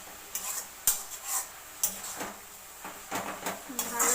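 A spoon stirs red amaranth greens with slit green chilies in a pan, giving irregular scraping and clinking strokes over a faint sizzle, close and moderately loud.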